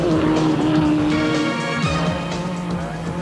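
Home-built super special race cars roar around the Kyalami circuit, their engines loud and continuous with rising and falling tones as several cars scrap through the field together, a steady racing din throughout.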